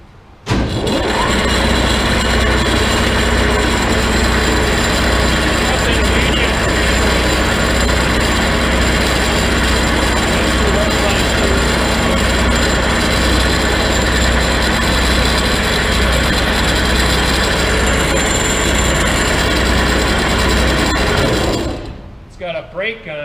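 A Grob 6V-36 36 by 20 inch vertical band saw runs steadily with a loud, constant mechanical drone and hum that cuts off abruptly near the end as the brake stops it.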